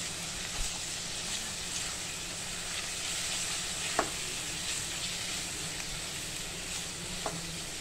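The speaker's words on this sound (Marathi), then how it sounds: "छानपैकी आलं लसणाचा कच्चा वास जाईपर्यंत आपल्याला हे परतून घ्यायचे." Ginger, garlic and coriander paste sautés in a pan with fried onion, a steady close sizzle with a soft stirring scrape throughout and a couple of brief sharp taps of a spoon against the pan.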